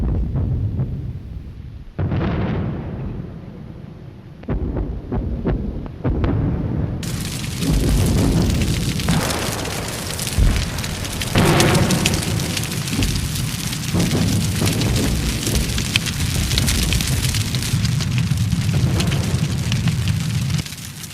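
An air raid with incendiary bombs exploding and fires burning, heard as a dense, continuous roar of booms, crackling and rumbling that swells and stays loud and close throughout.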